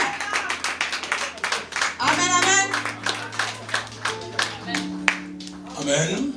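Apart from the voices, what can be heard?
wedding guests clapping and acclaiming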